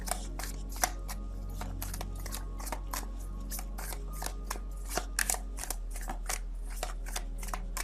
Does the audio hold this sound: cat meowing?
no